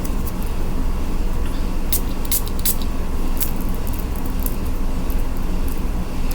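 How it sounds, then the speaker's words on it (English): Several quick hissing bursts of a perfume atomizer spritzing onto a paper test strip, clustered together over a steady background rumble. "let's spritz it on a test strip and see what we got going on here"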